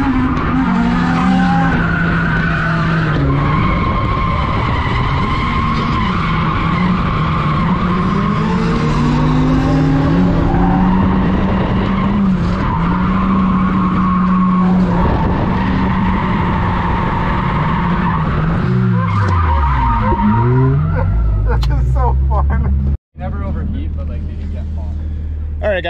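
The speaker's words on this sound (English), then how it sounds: "Let's see what this little daily driver drift truck can do." A daily-driver drift truck with a welded differential drifts with sustained tire squeal and a rising, falling engine roar, loud and near, ending in a sharp cut followed by low rumble and voices.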